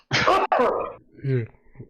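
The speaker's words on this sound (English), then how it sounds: "Covered cough." A short burst of muffled, covered coughing, two quick close bursts followed by a voiced grunt-like sound.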